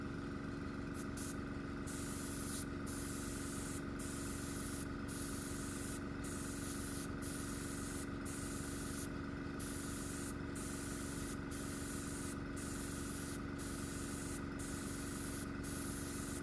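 Airbrush spraying a light mist coat of Australian-made acrylic lacquer hobby model paint, a steady close hiss of compressed air over a constant compressor hum, broken by short regular gaps as the trigger is released, no talk.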